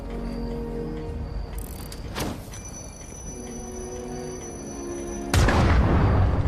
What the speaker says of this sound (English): That's a pretty good explosion, actually.